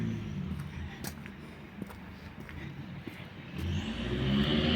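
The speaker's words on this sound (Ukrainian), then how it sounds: "машина як загуділа." A car engine swells and roars as it passes along a street in a village on the outskirts of Warsaw, Poland, rising loudly near the end over steady outdoor street noise.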